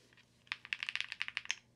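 Rapid clicky keystrokes on a Trio 65 mechanical keyboard with Bigwig switches, a quick run of about a dozen sharp taps in a steady rhythm, close and fairly quiet.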